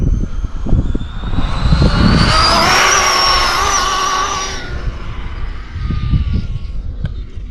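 A fast Arrma RC car's electric motor whines up to a loud high-pitched scream as it accelerates, holds for a couple of seconds, then drops away as the car spins out, leaving rough outdoor noise.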